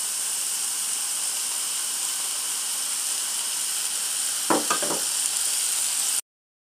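Ham and sausage fry with carrots in a pan for solyanka soup, making a loud, steady sizzling hiss. Midway there is a brief clatter of stirring, and then the sound cuts off abruptly.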